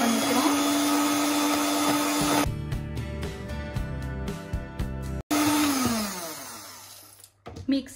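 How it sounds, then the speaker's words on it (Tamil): Electric mixer beating vanilla cake batter, its motor whirring in a steady high drone that cuts off, then rattles and bumps, and starts again after a short break. "இப்போ பீட் பண்ணிக்கிறோம்."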